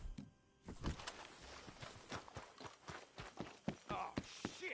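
Horse hooves walking in the Red Dead Redemption 2 video game, a run of close, fairly quiet clip-clops with an uneven rhythm and a few thunks among them.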